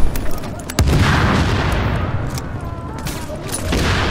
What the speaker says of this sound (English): we can see the explosion from here